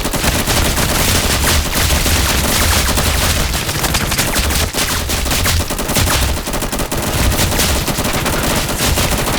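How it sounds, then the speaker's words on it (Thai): Dense, continuous gunfire between players in the online game Roblox The Island Reborn, with rapid overlapping shots and bursts filling the whole stretch, loud and close with no pauses. "อย่ายิงอย่ายิงโอ้โหแข่งกันยิง"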